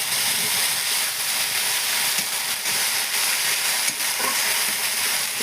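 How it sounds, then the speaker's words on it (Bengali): A paste of ginger, garlic, onion, tomato and green chili frying in a pan gives a loud, steady hiss and sizzle close up, continuous for the whole stretch with faint stirring underneath. "সেই পেস্টটা দিয়ে দিচ্ছি। এটা একটু ভাজতে হবে।"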